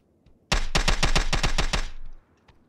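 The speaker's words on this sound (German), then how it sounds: "Schießen." Gunfire in the video game PUBG, a loud, close burst of about ten rapid automatic shots lasting roughly a second and a half, then fading into quiet with a couple of faint distant clicks.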